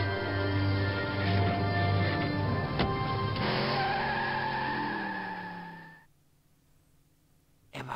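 A loud, continuous car engine drone with tire squeals and skidding in the video game Broken Sword Director's Cut, cutting off abruptly into near silence before a brief burst returns.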